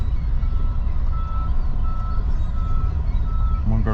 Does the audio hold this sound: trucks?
yes